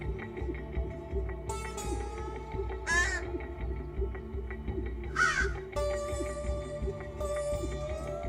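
Young crows caw in short, harsh bursts at a nest site, several separate calls spaced a couple of seconds apart over a steady low outdoor hum, fairly close and clear.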